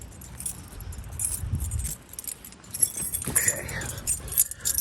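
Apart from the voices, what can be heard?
car keys jangling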